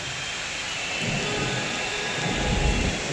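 Steady rain with low rumbling thunder, heard alone and fairly close, a continuous wet hiss with swelling deep rolls toward the end.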